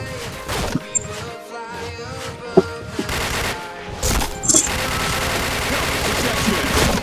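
Rapid bursts of gunfire and impacts in a shooting video game, dense and loud throughout, with occasional sharp shots and a brief player voice.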